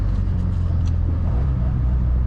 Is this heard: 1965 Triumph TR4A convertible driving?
yes